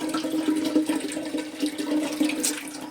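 Water poured out at a village temple in Gujarat, a steady rushing splash running continuously and fairly loud throughout, with no talk.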